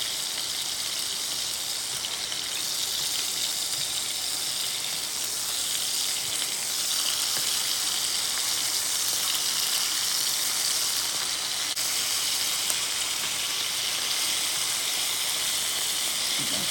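Turkey sausage patties sizzle steadily in a hot pan, a continuous close hiss and crackle that holds even for the whole stretch with no voices over it.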